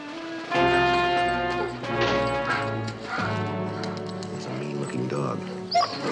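A dog whimpers and barks in a radio drama, short yelps and whines mixed over talking and a tonal background throughout.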